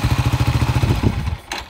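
A carbureted single-cylinder Yamaha SRX250 motorcycle engine idles nearby with a steady, thumping pulse, then the beat loosens and fades near the end.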